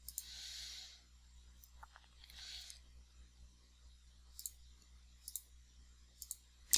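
Computer mouse clicks in quiet room tone: a handful of crisp, close, sparse clicks spread out over several seconds, with some soft rustling between them.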